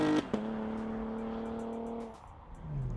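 A 2016 Chevy Camaro V6 convertible drives, its engine holding a steady tone, then easing off as the note drops and rises again.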